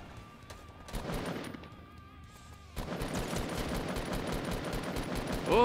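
Faint rapid bursts of assault rifle fire in the Fortnite Battle Royale video game crackle through the mix, with a short pause and then a denser, sustained stretch of gunfire.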